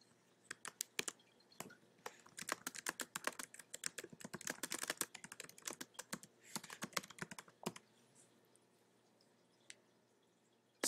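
Rapid typing on a computer keyboard, close and fairly quiet, comes in irregular bursts of crisp key clicks that thin out toward the end.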